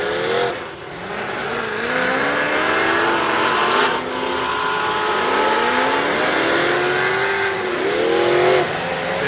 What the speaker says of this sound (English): Chance's motor sounds good.